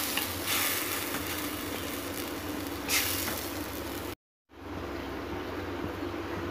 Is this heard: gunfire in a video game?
no